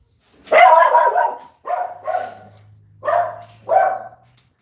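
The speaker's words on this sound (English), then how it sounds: "That's my dog, everyone." A dog named Respect barks four times in uneven bursts, close and fairly loud, with a faint low hum underneath and no talking.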